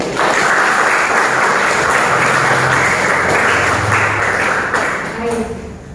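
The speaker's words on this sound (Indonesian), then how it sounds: "Tepuk tangan buat kalian." Students in a classroom applaud together, their clapping dense and loud and holding steady before tapering slightly near the end, with a faint tone and a low hum underneath.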